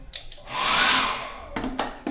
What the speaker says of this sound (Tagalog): Meron kayong hair dryer.